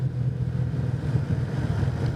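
Honda CBX 1000 six-cylinder motorcycle riding through curves, a steady low engine drone with wind rushing past the microphone, constant and fairly loud without any change in pace.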